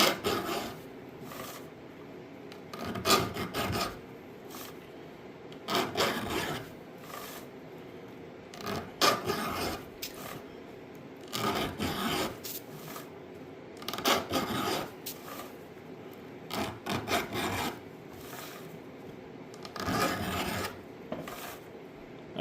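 A hand file sharpens the rakers of a chainsaw chain held in a rigid saw vise. Close raspy strokes come in short clusters about every three seconds, with quiet gaps between.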